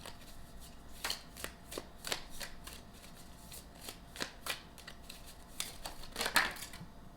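Tarot cards shuffled by hand in a quiet room, a series of crisp riffling flicks and slaps that come in irregular bursts, close and fairly soft.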